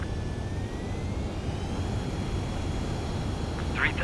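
A fighter jet in Ace Combat 7 on approach to an aircraft carrier for landing: a steady, fairly faint turbine whine and roar holding constant throughout, with radio chatter heard over it.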